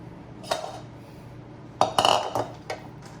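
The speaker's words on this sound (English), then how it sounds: "So I'm gonna save him a little bit of pasta and put it in his own bowl." Utensils clink against a bowl as pasta is served, a few sharp metallic taps and scrapes in quick clusters over a quiet background.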